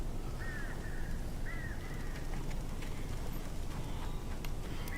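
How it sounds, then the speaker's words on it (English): Crows caw in Alan Wake Remastered, a few short rasping calls in quick succession over a constant low windy game ambience, moderately distant. "Look at all these stupid birds."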